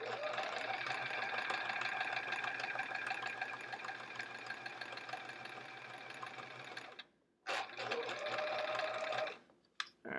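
A sewing machine stitches a quilt top in steady, close runs for about seven seconds, stops briefly, then resumes in two shorter bursts with quiet gaps between them, with no talking.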